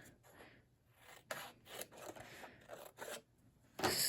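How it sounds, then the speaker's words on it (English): Scissors snipping a strip of paper, several short crisp cuts and scrapes at close range, quiet, with no talk. "So I'm going to cut a little strip."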